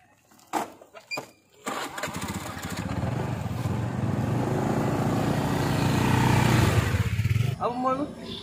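A motorcycle engine starts up after a few short clatters and settles into a steady, fairly loud running drone that holds for several seconds before fading, with brief voices at the end.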